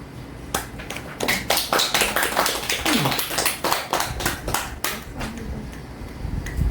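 Scattered audience clapping at a Buddhist dharma talk, a cluster of separate hand claps building into a few seconds of uneven applause, then thinning out. Moderately loud and close, with no talking over it.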